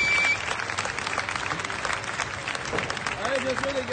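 Audience applause on a French talk show, a dense steady patter of clapping that fills the whole stretch, with a voice speaking over it toward the end.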